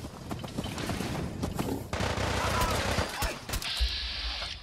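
Gunfire aimed at the player in Fallout 4: a barrage of sharp shots and bursts, fairly loud and close, with a steady high-pitched tone starting near the end.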